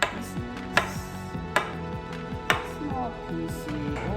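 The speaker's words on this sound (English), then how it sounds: "cut it in small pieces" A knife chops gnocchi dough into small pieces on a board, giving a few sharp, separate knocks at an uneven pace while a voice talks underneath.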